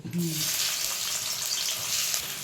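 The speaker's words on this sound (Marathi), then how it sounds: "कांदा फ्राय करून घ्यायचा चांगला म्हणजे परतून घ्यायचं छान असं लाल" Chopped onion and dried sandga frying in hot oil give off a steady, loud, broadband sizzle that holds unbroken from start to end, with no voices over it.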